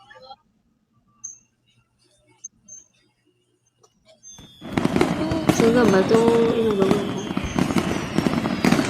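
Fireworks burst loudly and continuously on New Year's Eve, a dense crackling barrage that begins suddenly partway through and runs to the end, with people talking over it.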